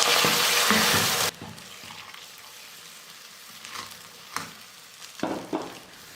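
Sugar caramelizing to dark brown in a pan over a low flame for a homemade sweet, with a loud, hissing sizzle for the first second, then a faint simmer and a few soft stirring knocks.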